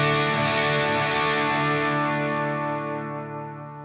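Electric guitar through a Fender Tone Master Pro with a compressor added after delay and reverb, even, sustained chords with a smooth echoing tail that gradually fades; no voices.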